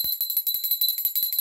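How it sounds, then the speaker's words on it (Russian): A small bell in a hidden-object school-themed video game rings in a quick, steady run of bright metallic tings, loud and close, with a sustained high shimmer running through it and no voices. "Колокольчик первый"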